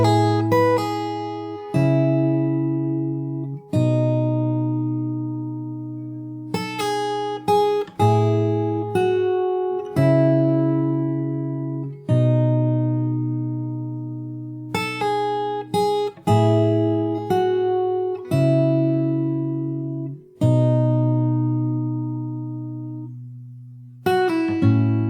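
Fingerstyle acoustic guitar plays the bridge of a song, a flowing passage of plucked chords and melody notes that ring and sustain, close and clear, with no voices.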